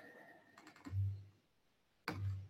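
A computer keyboard is typed on in two short bursts of quick clicks, close and fairly quiet, with pauses between them.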